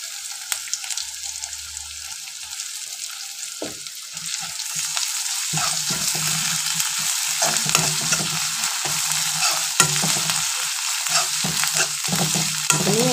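Onion, ginger, garlic and green chili frying and being stirred in hot mustard oil, a steady close sizzle with scraping stir strokes that grows louder after the first few seconds, no talk.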